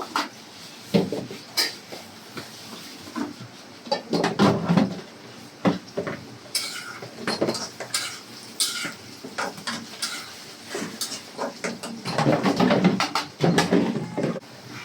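Vegetables being stirred in a cooking pot, with scattered clinks and scrapes of utensil on metal and a lid set back on, close and moderately loud, in irregular bursts.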